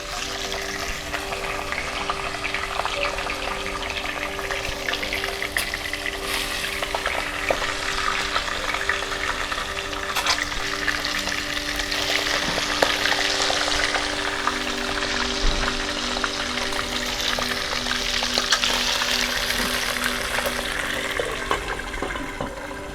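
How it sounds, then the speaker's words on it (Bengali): A fish head deep-fries in plenty of hot oil in an open-air kitchen, giving a steady, loud, crackling sizzle that runs without a break and with no talk. "তেলটা গরম হয়ে গেছে, মাছের মাথাটা ছেড়ে দিচ্ছি ভাজার জন্য।"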